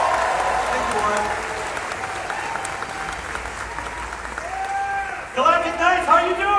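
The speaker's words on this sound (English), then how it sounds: "Give him a big round of applause." Applause from a gala audience at a Star Wars event runs steadily throughout at moderate loudness, with talk over it and voices rising louder near the end.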